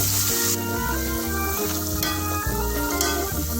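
Steady sizzling and crackling of frying in a pan while cooking pulihora for Sri Ramanavami, heard close and loud under a layer of sustained music.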